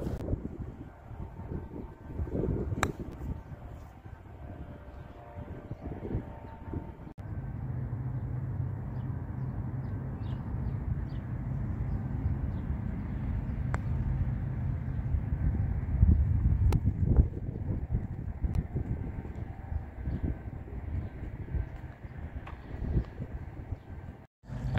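Steady outdoor wind buffets a microphone on a golf course, a continuous low rumble with gusts swelling and easing over about twenty-five seconds, no talking.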